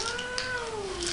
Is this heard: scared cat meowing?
yes